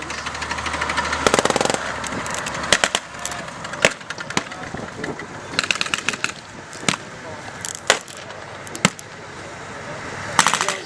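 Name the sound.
20mm cannon firing from a ship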